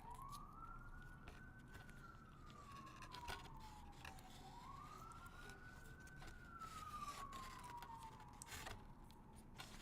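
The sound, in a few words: distant sirens in New York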